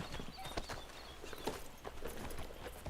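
Horse hooves clip-clop in Red Dead Redemption 2, a soft, steady run of light thuds at a moderate distance over a hiss of ambient background.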